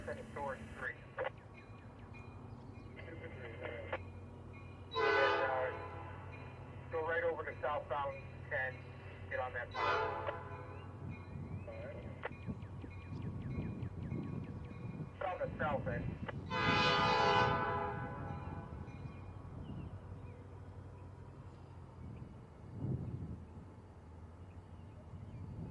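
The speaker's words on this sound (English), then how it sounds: "The train was busy shunting back and forth on the eastbound lead to the Chicago line." Norfolk Southern freight locomotive 3303 sounds its horn several times while shunting back and forth on an eastbound lead to the Chicago line in Sandusky, Ohio, with loud, drawn-out blasts over a steady rumble of rail traffic.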